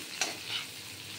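Bitter gourd, onion and potato fry in a pan, with a quiet, steady sizzle and two soft stirring scrapes, heard close and without speech.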